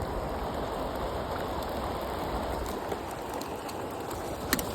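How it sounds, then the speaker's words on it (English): Hail pelts a storm-swept lake on Sam Rayburn during a bass fishing tournament, a steady, dense hiss of countless impacts with no break and no talk. "Yeah, that's freaking hail."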